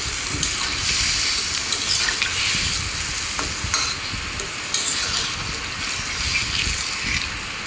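Water poured over lightly fried vegetables in a hot pan, raising a loud, dense hiss and bubbling sizzle that continues with a few small knocks throughout.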